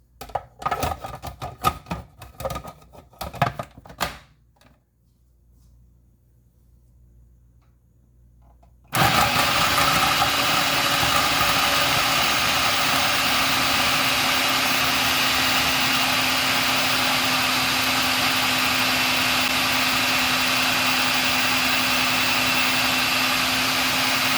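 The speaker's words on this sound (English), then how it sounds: "one large sweet potato, freshly cut, peeled, and I am going to blend this first." A countertop blender purees freshly cut, peeled sweet potato: after some clattering handling sounds and a quiet gap, the motor kicks on loud and close, then holds a steady high whir to the end.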